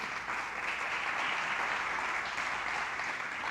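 A church congregation applauding, broad and sustained, dense steady clapping filling the room with no break.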